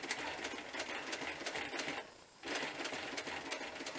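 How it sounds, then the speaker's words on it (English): Sewing machine running steadily while stitching a bushcraft working vest, a continuous close buzzing whir with one short pause partway through before it resumes. "So I'm going to sew it down there and then back again."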